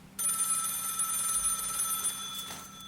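A telephone bell rings steadily and loudly for nearly three seconds, a continuous bright metallic trill with no voices over it.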